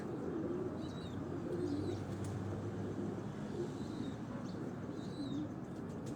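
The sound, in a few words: pigeon cooing on rooftop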